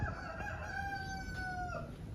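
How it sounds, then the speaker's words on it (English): Rooster crowing on a winter smallholding, one long drawn-out crow with a faint clucking start, heard at moderate distance over a soft background hiss with no talk. "inside the greenhouse we have got one of the rogue cockerels and a white hen"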